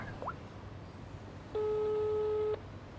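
A telephone busy signal for a call that won't connect sounds as a single steady electronic tone lasting about a second, clear against a quiet room after a faint chirp.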